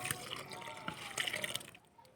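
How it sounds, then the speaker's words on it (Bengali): Soaked oil-cake water is poured onto garden soil where pumpkin seedlings are being planted, giving a short, soft splash and trickle that is fairly quiet and close. "সেই খোল ভিজানো জলটাকে আমি এখানে ঢেলে দিলাম"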